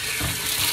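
Steady, full rush of running tap water pouring into a sink while rinsing out a blender, close and continuous for the whole moment.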